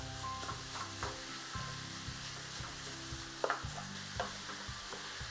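Minced beef sizzles in a hot pan while a utensil breaks it up, steady frying under repeated scraping and knocking strokes against the pan, close and continuous with no voices.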